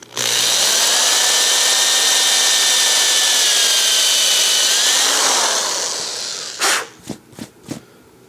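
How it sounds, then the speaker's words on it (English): A power drill whines steadily for several seconds as it bores a hole through a wooden guitar headstock for a tuner, then stops, followed by a few quick knocks and clicks. "so I'm just going to drill the hole."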